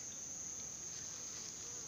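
Bees hum as a faint continuous buzz around a swarm trap bucket packed with calm bees outdoors, a thin high whine running steadily throughout with no voices.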